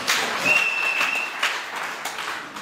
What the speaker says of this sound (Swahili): Mpe Bwana wetu makofi.